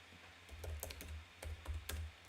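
Computer keyboard keys typed in short, irregular bursts of clicks and clacks, close and fairly quiet, with no voices over them.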